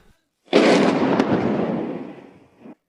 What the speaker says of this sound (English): A new airstrike right now.